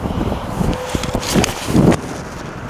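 Wind gusting across an outdoor golf course, rumbling and buffeting the microphone in swelling bursts with soft rustles.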